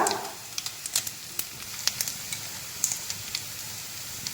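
Shrimp sizzling in a hot pan as chili, pepper and garam masala powders are stirred in, a steady frying hiss broken by sharp crackles and pops, close and loud.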